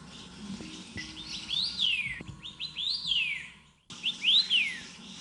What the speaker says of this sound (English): Listen to that whistling sound, which is from the Taiwan cibia.